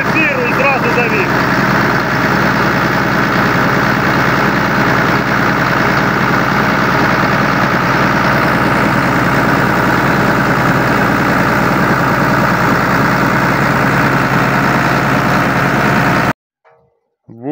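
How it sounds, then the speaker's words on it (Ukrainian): A John Deere 2264 tractor engine, started with a shot of ether, runs at a steady, loud idle with a continuous low rumble and mechanical clatter, then cuts off abruptly near the end. "Тільки приснув ефіру і зразу завів."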